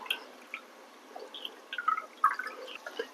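Tamarind pulp is squeezed by hand in a bowl of water for fish curry, making soft, scattered wet squishes and small drips, quiet and close with no talking.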